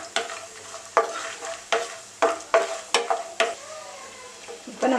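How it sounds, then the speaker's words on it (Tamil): Almonds being stirred and roasted in a pan while preparing pineapple kesari: a spoon scrapes and knocks against the pan in repeated sharp strokes over a faint, steady background, close and clear with no talking. "பாதாமும் வந்து நம்ம வறுத்துக்கலாம். இப்போ இதை நல்லா வறுத்துக்கலாம்."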